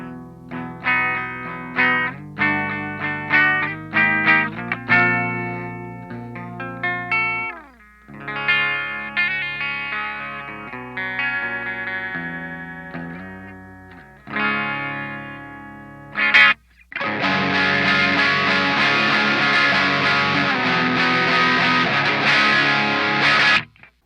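An ES-335 copy electric guitar plays through a Fender amp with heavy effects, picked phrases and sustained notes giving way to a dense, distorted strummed section near the end.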